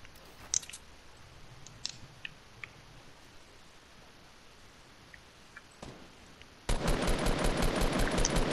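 Rapid automatic gunfire from a video game bursts in loudly near the end, following a stretch of quiet background with a few scattered clicks.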